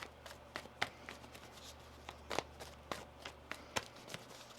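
A deck of tarot cards being shuffled by hand, with quiet riffling and sharp, irregular card snaps and taps at close range against a faint, steady background hum.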